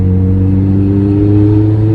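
A Ferrari 430 driving in West Hollywood, its engine droning loud and close with a steady low harmonic growl that climbs slightly in pitch as it revs and pulls, no voices over it.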